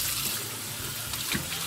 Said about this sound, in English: You have to make sure that you wash the soap off entirely with the water.